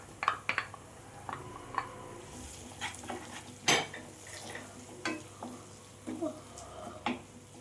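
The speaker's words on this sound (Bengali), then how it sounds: "আবারও মশলার সাথে আমি টমেটোটাকে ভালো করে কষিয়ে নেব।" Chopped tomatoes cook with spices in a pan for dal tadka, with a soft sizzle underneath intermittent stirring scrapes and utensil clinks against the pot, close by and fairly quiet.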